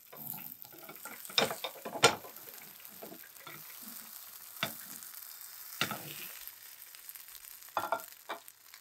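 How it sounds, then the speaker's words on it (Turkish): Food fries in hot oil in a pan after being flipped, a soft steady sizzle broken by occasional sharper crackles and utensil taps. "Diğer tarafı da nar gibi kızarana kadar bekliyorum"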